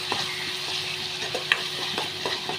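Masala paste and green chillies fry in a pan with a soft, steady sizzle, broken by a few scraping stirs of a spoon, close but fairly quiet with no voices.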